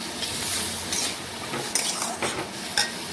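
A spoon stirring turmeric powder into ridge gourd and potatoes in a pan, soft scraping strokes with a few light metallic clinks over a faint sizzle, close and steady.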